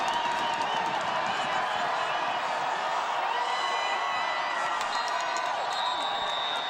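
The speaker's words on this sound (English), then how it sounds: "The crowd, visiting crowd's getting loud." Visiting football crowd at a high school state semifinal game, a broad continuous wash of cheering and yelling that stays loud throughout, with an announcer-like voice mixed in.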